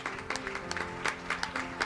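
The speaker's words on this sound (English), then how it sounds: "Let's give him a hand clap to start out this morning" Church congregation clapping hands in a steady, rhythmic beat, a quick repeated patter of claps with faint background voices and music.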